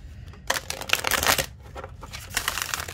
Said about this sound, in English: This one shuffles so good.